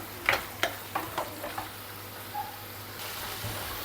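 A spoon stirs bottle gourd halwa with dry fruits in a pan on the stove, giving a few soft scraping strokes over a low steady sizzle, with no talking.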